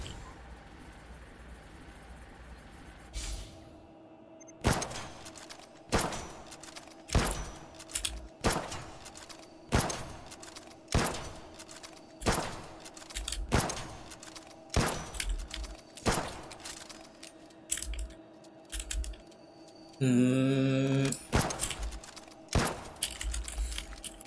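Bursts of rapid video-game gunfire crack out in a regular rhythm, loud and close, with a louder, denser volley near the end and no talk.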